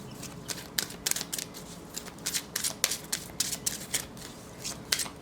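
Repeated riffling shuffles of tarot cards, a run of crisp bursts in uneven rhythm, close and fairly quiet, with no voices.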